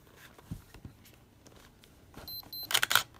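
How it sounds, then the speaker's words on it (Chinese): Canon EOS 10 QD film SLR camera firing its shutter near the end after a few soft handling clicks, with a sharp mechanical snap and flash activity, close and fairly quiet. "可以看到哈，快门正常可动"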